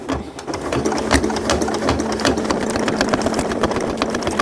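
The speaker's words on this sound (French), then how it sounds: "on n'a plus qu'à passer à la couture" A sewing machine stitches an insulated bum bag in a fast, continuous mechanical rattle, loud and close, with slight changes in speed; no talk.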